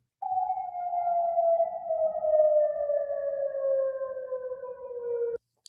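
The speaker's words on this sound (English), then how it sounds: "Air raid sirens continuing to sound across Kuwait amid yet another drone and missile attack by Iran." A single sustained air raid siren tone in Kuwait slowly glides downward in pitch for several seconds, steady and droning before cutting off abruptly.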